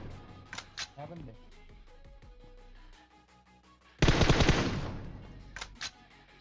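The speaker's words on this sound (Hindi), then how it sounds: "अब मैं गाड़ी पे गोली चलाता हूँ, दीवार पे गोली चलाता हूँ" A sudden burst of rapid gunfire in PUBG Mobile, aimed at a car and a wall, erupts after a few quiet seconds, loud and dense, fading slightly, with scattered sharp shots and faint game sounds before it.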